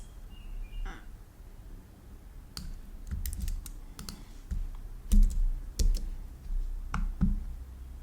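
Soft computer mouse clicks come in scattered bursts at close range over quiet room tone, some single, some in quick pairs, with no talking.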